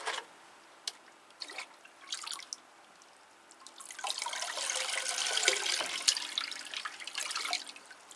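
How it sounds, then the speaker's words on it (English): Water is poured into a potted Cattleya orchid in an open mix, first as scattered drips and trickles, then a steadier splashing flow for several seconds, close and moderately quiet. "So I'll just water that one and have a look at another one."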